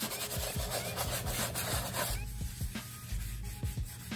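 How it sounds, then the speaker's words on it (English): Steady rhythmic rasping of sandpaper scrubbing paint marker layers on a skateboard deck, close and fairly quiet, with short repeated strokes and no voices. "sanding in between layers"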